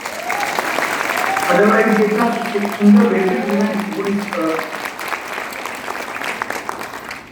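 An event audience applauds the organizers, with a dense patter of clapping running beneath a man's speech and continuing on after his voice stops.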